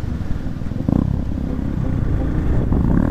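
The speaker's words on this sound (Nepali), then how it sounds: "तर एक्जस्टको फेरि आवाज चाहिँ खतरा हो, बुस्टर पनि आवाज त कम होइन" A motorcycle fitted with a loud booster-type exhaust revs and runs during a highway group ride, its rough engine roar steady and close, with a short clattering surge near the one-second mark.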